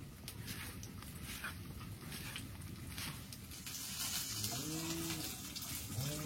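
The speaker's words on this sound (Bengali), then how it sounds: "আমার গরু চারদিকে ডাকছে।" A cow lowing from around a village yard, a faint low moo rising near the end over a quiet, busy background of farm and household noise.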